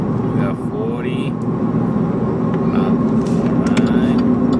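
Cab of a 2011 Chevy Silverado pickup, its engine humming steadily as it climbs toward 2000 RPM on a freeway entry, heard under someone talking, with road rumble throughout.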